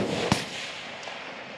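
One sharp rifle shot cracks loudly during long range shooting training, followed by a faint second report and a fading outdoor rumble, with no talking.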